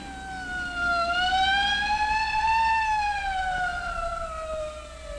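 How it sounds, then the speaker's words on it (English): A police car siren wails loudly and continuously, its pitch sliding slowly up and down in a long rising-and-falling sweep, close by on a road with no voices. "Hey, a police car."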